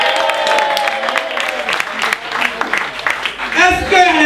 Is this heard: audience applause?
yes